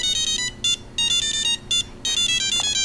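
An old electronic handheld game beeps in quick bursts of shrill, buzzy tones, a repeating electronic melody with short pauses, close and clear with no talk.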